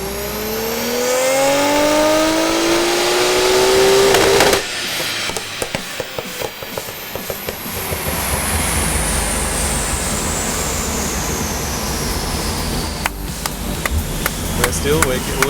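A turbocharged Nissan GT-R engine on a dyno sweeps up loudly to a high rev, then cuts off abruptly into a rattling, chattering idle that carries on with rising mechanical noise.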